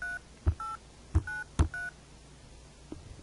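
A phone dials out to an Android phone with a short series of clear DTMF keypad tones, four beeps spaced evenly apart. Soft tapping thumps sit beneath them at a low level, with no talking.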